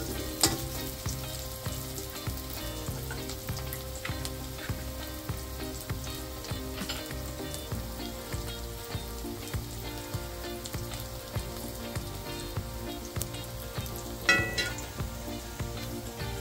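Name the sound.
onion frying in oil until brown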